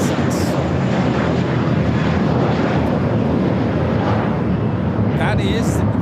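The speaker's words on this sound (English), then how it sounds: "That is this magic moment taking off to JFK, JetBlue 224. It's an A321." A JetBlue Airbus A321 takes off at LAX with a loud, continuous broadband jet engine roar close by, while a voice talks over it.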